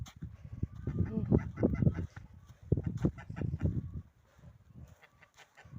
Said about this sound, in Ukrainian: Гусаки мої кричать.